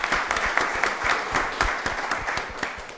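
Sustained audience applause at a county board of commissioners meeting, dense steady clapping from many hands filling three seconds at an even level, moderately close, with no talk over it.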